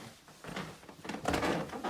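Wooden stairs in a house creak faintly underfoot with an unheated interior, giving a few soft, irregular groans and scuffs that build slightly toward the end.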